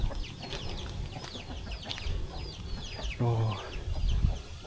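Chickens cluck and call around a remote Javanese village in Semarang Regency, Central Java, near and fairly loud, with someone speaking briefly over the birds.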